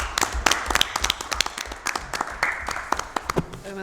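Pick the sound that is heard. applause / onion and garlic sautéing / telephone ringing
applause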